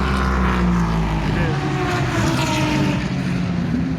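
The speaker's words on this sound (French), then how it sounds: "Les LMP3 font boucan de tous les diables" LMP3 prototype race cars roar past the first corner at Circuit Paul Ricard during a 2023 European Le Mans Series race. The engine note is loud, close and sustained, with a voice partly buried beneath it.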